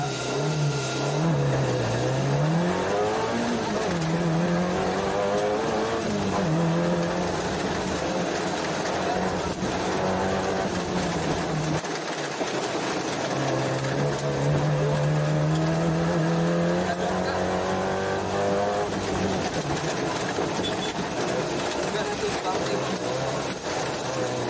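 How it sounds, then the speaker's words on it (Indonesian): A Suzuki Jimny sprint rally race car is driven on a short track, its engine revving up and down through repeated accelerations and gear changes, loud and close, with occasional tire noise and voices underneath. "sekarang kita akan coba trek yang pendek tadi pakai mobil balapnya"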